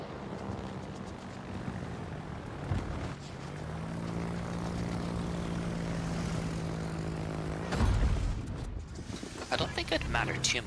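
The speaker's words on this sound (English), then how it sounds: "He doesn't have any more torpedo bombers in reserve." Carrier torpedo bomber aircraft engines drone in the World of Warships video game, a steady propeller hum with a sustained tonal note beneath a dense game soundscape and speech.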